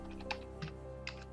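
A few faint, soft keystrokes on a computer keyboard at a Windows 10 workstation, three separate clicks spaced across a quiet moment with no talking.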